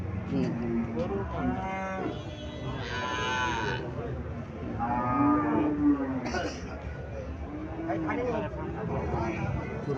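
Cattle at a livestock market, including a healthy cow, low mooing several times close by amid a steady hubbub of market crowd noise and voices.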